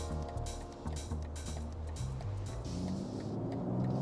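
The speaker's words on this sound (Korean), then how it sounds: "차량이 벌써부터 우궁웅 소리가 나면서 달릴 준비를 하고 있습니다" A BMW X3 M Competition with the exhaust valves open rumbles at a low, throbbing idle, a close, steady engine burble with a few brief louder pulses and some faint clatter.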